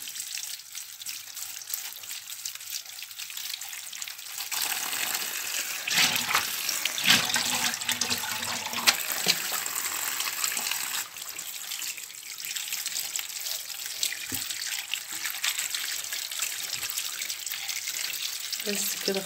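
Tap water runs steadily into a sink while strawberries are being washed, a continuous close splashing hiss with brief louder surges partway through.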